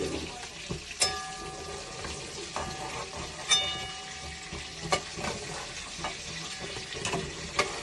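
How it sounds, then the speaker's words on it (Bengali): Eggplant frying in plenty of oil sizzles steadily up close, with sharp utensil clinks and scrapes as the pieces are stirred and lifted from the pan. "এইভাবে বেগুনটাকে পুরো লাল করে ভেজে নিলাম।"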